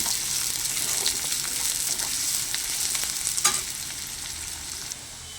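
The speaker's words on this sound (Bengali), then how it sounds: "পেঁয়াজটাকে আমি লাল লাল করে ভেজে নেব।" Chopped onion frying in hot oil with cardamom and dried chilli, a steady close sizzle with occasional louder crackles and spatters, no voices.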